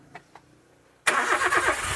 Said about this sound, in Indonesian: nah ini dalam kondisi mesin hidup mesinnya masih halus sekali